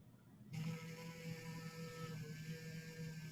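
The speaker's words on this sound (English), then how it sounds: "So you just listen for the motor to come on and then watch the reading on the ammeter." An electric toothbrush motor switches on abruptly and keeps running, a steady close buzzing hum with a fixed pitch and no talk over it.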